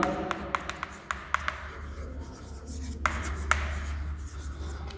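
Chalk or marker taps and scratches on a classroom board during an English grammar lesson, a series of short, sharp strokes with a couple of longer scrapes over a low background hum.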